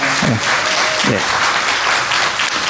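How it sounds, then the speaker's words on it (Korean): A church congregation gives steady welcoming applause to two newly arrived visitors at a Sunday service, dense clapping filling the room throughout, with a couple of brief voices near the start. "잠깐 일어나시면 환영의 박수를 하겠습니다"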